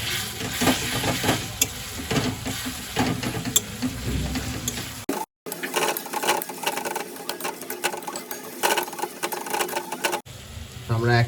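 Ginger garlic paste sizzling in a pan over a low flame, with a close, constant frying crackle and repeated scraping of a stirring spoon, briefly interrupted by a short cut.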